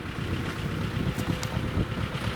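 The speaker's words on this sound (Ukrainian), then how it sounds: "Трактор вже приїхав." A tractor fitted with an auger pulls up to an orchard plot, its low, steady engine rumble close by and mixed with gusty wind noise on the microphone.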